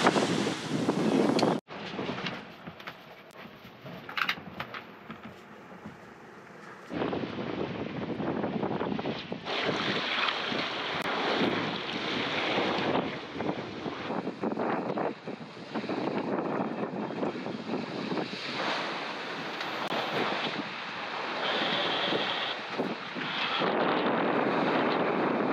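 Strong wind roars and waves wash against a sailing boat at sea, a continuous loud rushing broken by gusts and splashes, with no voices.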